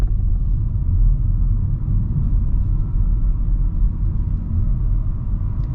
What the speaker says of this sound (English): you hear a little bit of whirring from the motor, but most of the noise you get is road noise